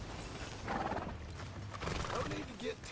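A horse in a PS4 video game whinnies amid hoof clip-clops and game sounds, heard close, with character voices talking around it.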